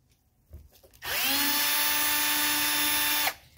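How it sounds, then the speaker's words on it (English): A power screwdriver removing screws from the antenna of a 1983 Mercedes 300D whines loudly and steadily for about two seconds after a few faint clicks, then stops abruptly. "just take out these four screws"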